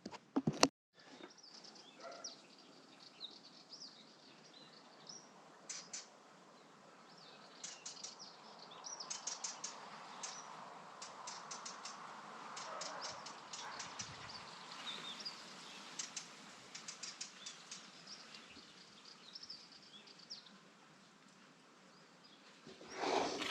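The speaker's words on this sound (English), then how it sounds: "Bird singing." Birds sing outdoors, with scattered chirps and tweets, some wing flutters, and faint, distant calls over a constant airy background hiss.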